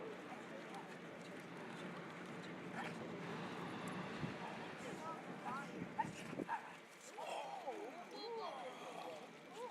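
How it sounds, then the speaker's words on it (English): A dog attacks and barks with sharp yips and growling snarls mixed with scuffling. The noise grows more intense partway through, and people talk over it throughout. "you see how the dog automatically attacks without any cues, any commands"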